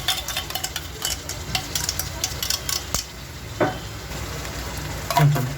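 Onions fry with ginger-garlic paste for a chicken curry, giving a continuous close sizzle with intermittent stirring scrapes and a few sharper utensil knocks against the pan.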